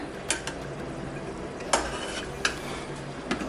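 A utensil stirs fish biryani in a cooking pot, several distinct metallic scrapes and clinks spaced irregularly over a quiet, close background with no talking.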